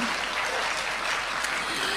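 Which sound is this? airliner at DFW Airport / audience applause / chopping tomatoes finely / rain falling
audience applause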